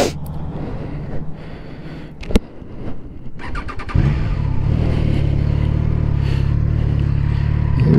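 A 2021 Triumph Trident 660 motorcycle, a three-cylinder roadster, is cranked after some clicks and handling noises, then fires at about four seconds into a loud, steady close-up idle.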